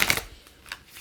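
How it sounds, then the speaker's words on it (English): A deck of tarot cards gets one quick shuffle, a close riffling burst at the start followed by a softer flick, with no talking. "One more shuffle here."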